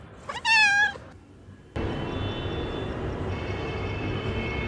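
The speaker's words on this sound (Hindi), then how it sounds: "और ये बिल्ली मेरे साथ पीछे पीछे चल रही है।" A cat following along on a walk gives a quick series of rising, wavering meows, then a loud steady outdoor rumble takes over and drowns out everything else.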